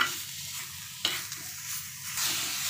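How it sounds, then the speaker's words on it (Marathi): A mixture in a pan is stirred after jaggery is added, with a spoon scraping and swishing in repeated strokes over a soft sizzle and a few sharper clinks. "आणि आता मी गूळ घालणार आहे आणि मिश्रण छान एकजीव करून घेणार आहे"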